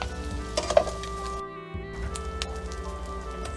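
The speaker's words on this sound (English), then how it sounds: "And then we're going to add the mushrooms." Mushrooms hit a hot oiled pan while cooking for a shrimp, mushroom and spinach cream sauce, raising a steady close crackling sizzle with a few stirring clinks, briefly dropping away before the frying resumes.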